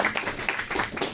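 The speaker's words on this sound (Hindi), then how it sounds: "हमारी बच्चियों के लिए तालियां प्लीज" An indoor audience claps for the girls in a brief burst of rapid, fairly loud applause, many hands slapping close together for about a second.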